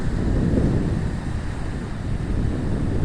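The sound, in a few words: waves on the Caspian Sea shore with wind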